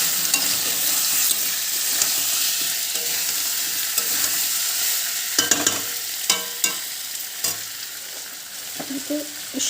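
Pumpkin and soybean curry stir-frying in a pan, a steady broad sizzle running throughout with scraping stirs and clinks of a spatula, louder bursts clustering toward the end.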